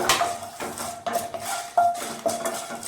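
Onion chutney with red chillies being stirred in a pan, a utensil scraping and clinking against the metal in steady repeated strokes, close and clear with no talking.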